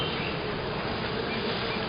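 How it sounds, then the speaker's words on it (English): Honeybees buzz steadily and densely during an inspection of a swarm hive, with a continuous close hum that fills the whole moment and no talk. "See the bees?"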